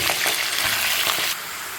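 Chicken pieces frying in a pan for biryani, plain without spices or salt, give off a steady loud sizzle with faint stirring scrapes, then the hiss drops to a softer, even fry near the end.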